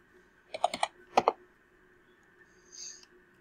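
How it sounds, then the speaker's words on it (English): Keyboard shortcuts typed on a computer keyboard: two quick clusters of close, crisp key clicks, then quiet with a faint later rustle. "I'm going to press Control C to copy and select, Control V to paste, F2 to rename"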